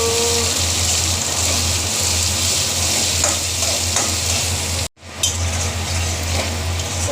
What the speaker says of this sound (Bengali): পেঁয়াজটাও সুন্দর ভেজে নিচ্ছি লাল লাল করে